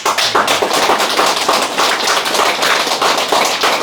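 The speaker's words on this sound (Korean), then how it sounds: "고마움의 담례로 박수 한번 부탁드립니다" Dense crowd applause from a seated audience after a lecture at a company workplace, steady loud clapping filling the whole stretch without a break and with no voices over it.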